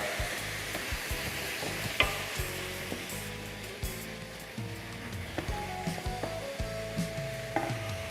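A pork chilli mixture sizzles in a pan while a utensil stirs and scrapes it, with steady frying hiss and repeated knocks and scrapes close by, no talking.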